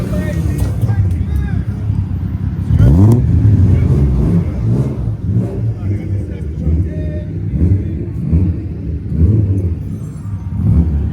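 Cars drifting at a gathering, including a Toyota Supra and a Nissan Z, engines revving and rumbling with rising and falling pitch at middle distance, with people talking nearby throughout.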